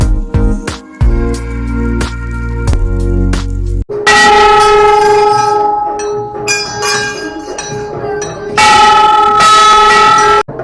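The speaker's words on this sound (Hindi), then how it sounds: "ये दोनों जो है केवल घंटी बजा रहे हैं और कुछ नहीं।" Temple bells at Badi Devkali are struck by two children, ringing out loud and close in a rapid, repeated series of metallic clangs with long shimmering overtones, the strikes arriving in uneven bursts.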